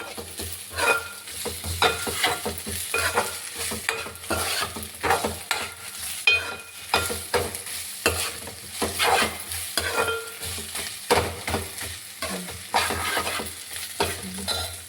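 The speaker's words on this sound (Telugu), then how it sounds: "ఇప్పుడు టమాటా పేస్ట్ వేస్తున్నాను." Tomato paste stirred and frying in a pan over ginger-garlic paste for a Telugu curry: a steady close sizzle with repeated scraping strokes of a spoon, continuous and fairly loud throughout, with no talking.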